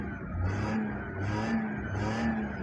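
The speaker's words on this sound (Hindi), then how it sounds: "इंजन का साउंड एक बार सुन लो" A second-hand Maruti 800 car idles just after a self-start, its small engine humming steadily with three rhythmic swells of revving. The sound is fairly quiet and close, with no talk over it.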